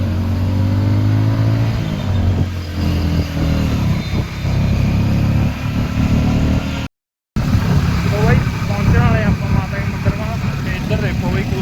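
A motorcycle labours up the steep climb toward the Naina Devi temple, its engine a steady, continuous drone close by, with voices talking over it and a brief dropout partway through.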